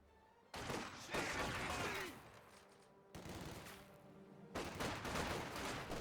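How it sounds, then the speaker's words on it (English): Bursts of MG42 machine gun fire and other gunfire in the Company of Heroes 2 video game, loud dense rattling volleys in three separate blasts with brief lulls between them. "MG42 here does suppress the conscripts"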